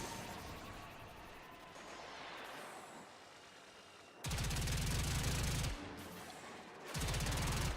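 Rapid automatic gunfire in a shooter video game, long dense roaring bursts that start abruptly, cut off, then return, over a rumbling background of combat noise, with no talk.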